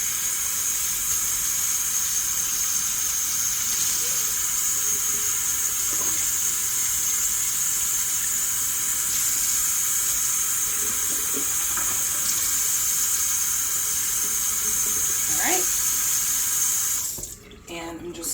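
Hot water runs steadily from a kitchen tap into a sink, a continuous close hiss and splash that lasts almost the whole time and cuts off near the end. Faint talk comes through in the background.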